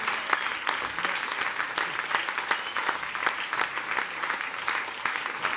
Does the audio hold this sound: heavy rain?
no